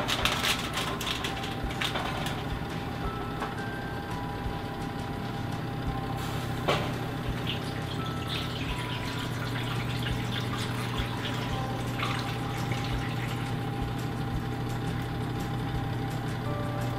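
Cold water poured into a baking pan around a coconut flan before it goes into the oven, making a steady, fairly quiet splashing stream that runs on without a break.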